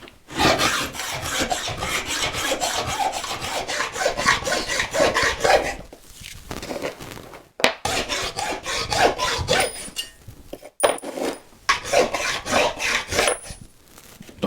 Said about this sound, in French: je perce mes trous